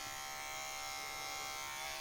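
A T9 Vintage electric hair and beard trimmer, fitted with a comb guard, runs steadily close by with a continuous high, thin buzz and no talking.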